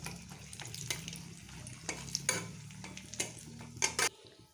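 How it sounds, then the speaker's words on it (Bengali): Dried red chili and panch phoron spices hit the oil left from frying hilsa fish heads, making a faint sizzle with scattered stirring clinks and a few sharper crackles near the end. "এই মাছ ভাজার তেলটার মধ্যে আমি একটা শুকনো লঙ্কা পুরন দিয়ে দিলাম"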